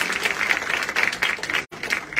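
Steady applause from an audience at a customer style show, dense continuous clapping with a brief cut near the end.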